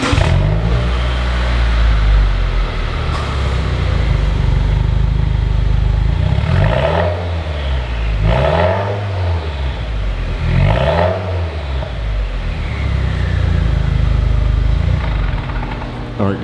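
A 2018 Subaru Forester XT engine, warm, runs loud and close at idle, then rises through three or four quick revs that swell and drop back, with a steady rumble throughout.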